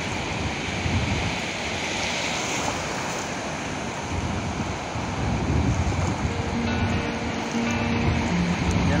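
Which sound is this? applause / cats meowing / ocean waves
ocean waves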